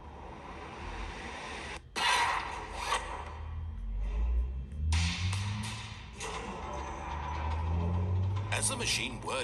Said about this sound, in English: As the machine whirred into motion and Stanley was inched closer and closer to his demise